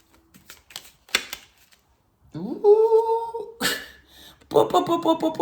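Tarot cards shuffled and drawn in a reading: crisp clicking snaps and papery flicks in short bursts, close and fairly loud, with a brief strong rustle near the middle, between quiet gaps.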